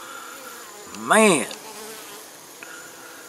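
A honeybee flies close past a nuc hive with a screened bottom board in the evening, giving one loud rising-and-falling buzz that fades, over a quiet background; someone speaks a single word.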